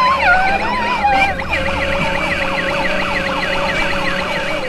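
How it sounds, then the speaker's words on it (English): A pink and purple Doc McStuffins ride-on toy ambulance from Disney Power Wheels plays its electronic siren, a steady, loud wailing tone that repeats without a break, heard outdoors in a park and with no voices over it. "A Doc McStuffins ambulance. A ride on ambulance."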